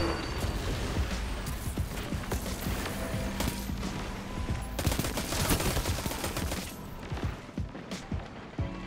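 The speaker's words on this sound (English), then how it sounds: "person that is shooting me with your gun" Rapid gunfire from the shooter game Destiny 2 crackles in dense overlapping bursts, with loud repeated shots and impacts filling the whole stretch.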